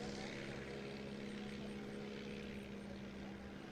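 A STOL airplane on final approach at a short takeoff and landing competition in Sulphur Springs, Texas, gives off a steady, faint propeller-engine drone from a distance beneath a commentator's voice.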